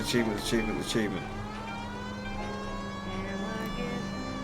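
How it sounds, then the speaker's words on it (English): A police car siren in the video game L.A. Noire wails steadily with rising and falling tones, loud and continuous over engine hum, with a voice talking over it early on. "Driving is easy if you have the siren on, so you just always have the siren on."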